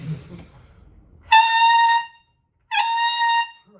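Two loud, brassy trumpet blasts, overblown hard with a harsh, blaring edge, separated by a short pause, close and unaccompanied.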